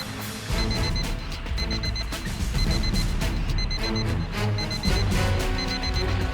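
A rapid, beeping alarm rings continuously from a suspected bomb in a stolen car, loud and steady in a repeating pulsed pattern, heard alone in a Hindi police crime drama.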